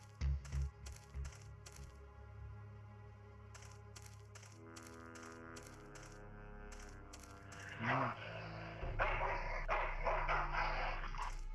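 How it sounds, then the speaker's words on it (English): A dog barks in the adventure game Full Throttle, several short sharp yelps near the start followed by game music and effects, with a louder rough burst later on. "Dog jumps in car, eats meat, jumps out, kills me"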